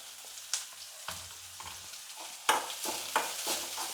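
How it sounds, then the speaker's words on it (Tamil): Onions and mustard seeds fry quietly in a pan, giving a soft sizzle broken by scattered pops and crackles and a few stirring scrapes. No one talks. "வெங்காயம் வந்து நல்லா வதங்கட்டும் கடுகு நல்லா பொரிஞ்சிடுச்சு"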